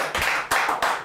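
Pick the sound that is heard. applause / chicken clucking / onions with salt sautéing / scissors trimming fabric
applause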